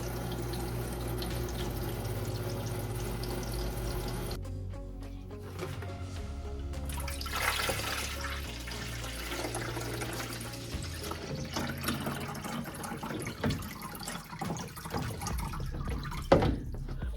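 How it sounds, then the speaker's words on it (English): Filtered water pours into a wide-mouthed pitcher beside a NewAir countertop nugget ice maker, a steady close stream with splashing and dripping that shifts in tone as the pitcher fills. "we're gonna fill up our pitcher with clean filtered water."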